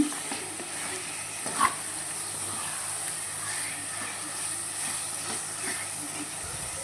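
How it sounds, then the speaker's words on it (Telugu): Chicken fries in oil in a clay pot with a soft, even hiss and a single brief knock early on, fairly quiet throughout. "చికెన్ బాగా ఆయిల్లో ఫ్రై అవ్వాలండి"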